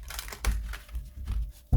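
Tarot cards are shuffled by hand in a few quick riffling bursts, papery crinkles and slaps at close range, with short pauses between passes and no talk.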